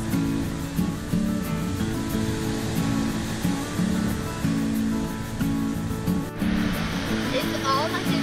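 Ocean waves wash onto a beach at Port St. Joe as a continuous surf roar with swells rising and falling. People talk intermittently over the sound.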